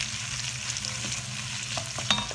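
Leeks frying in a pan for braised ossobuco, giving a steady close sizzle and crackle throughout with a few light stirring scrapes and clicks toward the end.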